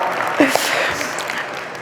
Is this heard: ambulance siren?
no